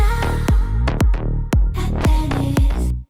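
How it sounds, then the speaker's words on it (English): A reversed synth bass clip bounced in Cakewalk for a slap house track: a series of swelling, pitch-bending tonal hits that build and cut off abruptly, loud and rhythmic with no voices. "bring it down, and then reverse it by going into process, apply effect, reverse"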